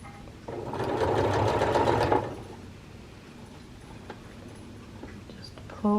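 A sewing machine runs in a short steady burst, stitching fabric onto the interfaced side of a Butterick 6956 garment, then stops, leaving quiet room tone with faint handling clicks.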